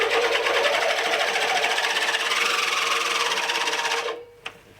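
A Webb WEH30 manual push cylinder lawnmower cutting dry grass, its spinning reel giving a loud, fast, even whirring chatter that runs steadily, then winds down into near quiet with one small click at the end.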